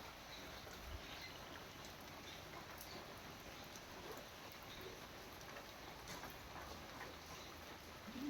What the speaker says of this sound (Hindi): दिख रहा है ना, बारिश हो रही है।